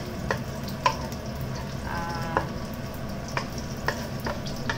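Garlic sautés in hot oil in a pan for ginisang ampalaya, a steady crackling sizzle broken by a series of sharp spatula clicks as it is stirred, close and without talk.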